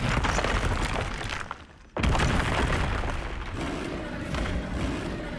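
Confringo blasting spell explosions in the Hogwarts Legacy video game, a dense run of loud booming blasts and crackling bursts broken by a brief dip before the blasts return, close and continuous, with no talking.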